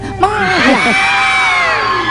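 Studio audience at a Philippine TV variety talk show shouting, whooping and cheering in a loud burst that swells and then holds steady, with a host's voice mixed in.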